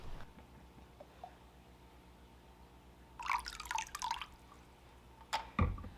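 Liquid drips and trickles into the filter area of a small five-gallon betta aquarium, with scattered single drops and a brief burst of splashing, fairly close and quiet.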